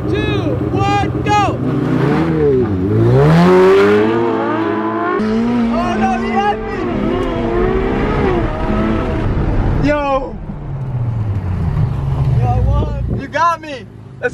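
A Ferrari 488 Pista and a Ferrari 812 Superfast drag racing, loud engines revving and climbing through gears with rising and falling whines and tire noise, while people shout and talk excitedly over the roar.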